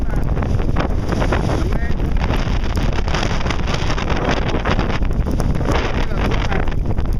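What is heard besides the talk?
wind during a violent thunderstorm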